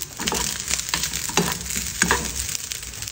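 Rice frying in oil with oyster sauce and seasoning, a steady close sizzle with occasional scrapes and clinks of stirring throughout, no voices.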